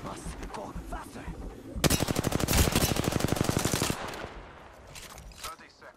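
Apex Legends gunfire: a loud, rapid automatic burst rattles out for about two seconds in the middle, framed by quieter in-game ambience and movement before and after.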